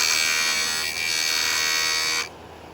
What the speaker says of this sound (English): Use the Scotch-Brite wheels to do the grinding.